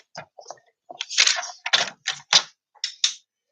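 Scissors cutting a folded paper card, a series of short crisp snips and crunchy paper sounds in quick succession, close and clear against silence.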